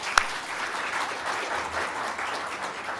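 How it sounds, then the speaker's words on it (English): An audience at a research forum applauds the panel members, a steady, even patter of many hands after one sharp clap, moderately loud and unbroken. "Please give them a round of applause."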